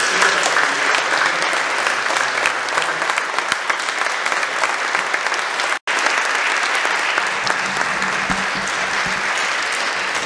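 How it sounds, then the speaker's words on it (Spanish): Loud, continuous applause from an audience at a panel discussion on the Mexican Revolution, a thick crackle of many hands clapping with one brief dropout midway. "Vamos a gritar un fuerte aplauso."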